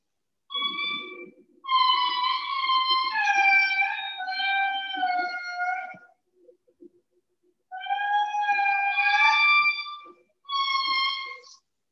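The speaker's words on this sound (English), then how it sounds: "what you just heard was the eerie call of the Indri" Loud, eerie wailing calls of an indri lemur with sustained, wavering tones in long bursts separated by short pauses, heard clearly and alone.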